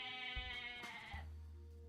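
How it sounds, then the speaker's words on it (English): Goats in the video game Age of Mythology bleat in a short, quiet, wavering cry, with a low thump or two underneath. "Ooh, three goats down there."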